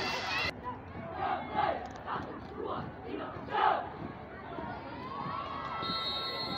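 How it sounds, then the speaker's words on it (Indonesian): A crowd cheers and shouts for a school marching team at a district marching competition in Tilamuta, Boalemo, a steady loud roar of voices with a brief burst of noise at the start. "kita berikan aplaus dari MTS Al-Khairat Tilamuta"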